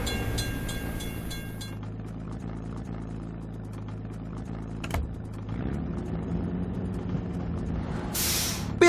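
Train rumbling past a closed level crossing in a children's vehicle game, a steady low mechanical roll with air-brake hiss and a bright electronic burst near the end, no talk.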